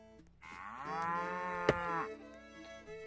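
A cow in a farming video game gives one long, loud, clear moo lasting more than a second, close up, against quiet background with no talk.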